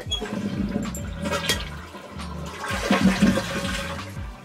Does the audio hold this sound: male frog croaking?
no